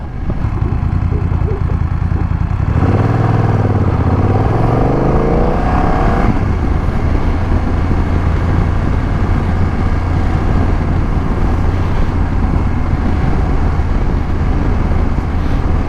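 A motorcycle on a spring ride runs steadily and loudly throughout, with a rising rev and shift in engine pitch early on before settling into a constant drone mixed with road and wind noise.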